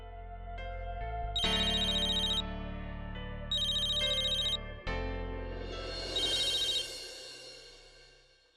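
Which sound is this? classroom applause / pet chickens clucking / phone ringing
phone ringing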